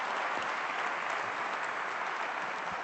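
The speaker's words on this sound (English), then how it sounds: "Nice round of applause" A business forum audience applauds, a dense, even roar of many hands clapping that holds steady without a break for nearly three seconds, no voices standing out.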